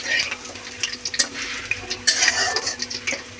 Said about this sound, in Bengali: শুকনো লঙ্কা, দুটো তেজপাতা একটু হালকা নেড়ে নেবো, দিয়ে গোটা জিরে দিয়ে দেবো